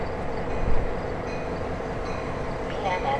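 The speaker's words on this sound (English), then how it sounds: "BNSF train number 1252 to Chicago Union Station is now arriving" BNSF commuter train arriving at a station behind an F40 locomotive, a low steady rumble of rolling cars with a brief louder thump, while a platform announcement plays over it.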